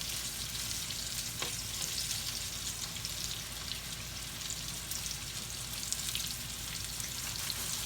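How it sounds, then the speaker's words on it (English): Chicken wings frying in oil in a skillet give a steady, dense sizzle and crackle throughout, close up and fairly quiet, with no talking. "I'm going to fry this off just to brown it"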